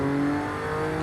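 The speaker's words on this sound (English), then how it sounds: "Oh, the crackle on the overrun when you shift down does" A 2018 Audi RS4 Avant V6 in Forza Horizon 5 drones loud and close under steady engine tone as it comes off the throttle and downshifts, with exhaust crackle on the overrun.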